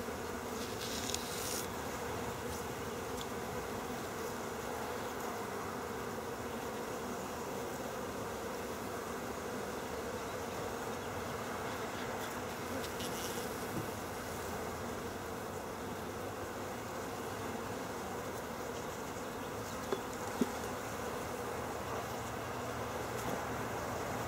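A dense, steady hum of many honeybees buzzing close by during a hive inspection, continuous and unbroken throughout, with no voices.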